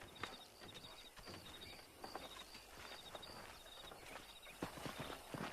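Horse hooves clip-clop steadily in Red Dead Redemption on Xbox 360, a rhythmic walking gait close by over soft outdoor ambience, with faint bird calls and no talk.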